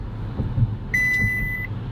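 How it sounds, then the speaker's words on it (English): A 2014 Tesla Model S with a Mobileye collision avoidance system sounds one sharp, high electronic warning beep lasting under a second, clear above the low hum of the car's interior. "Now that alert there was changed through the app"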